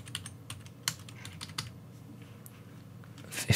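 Quiet, close computer keyboard typing of a backup folder name, a steady patter of individual key clicks with a louder cluster of keystrokes at the end.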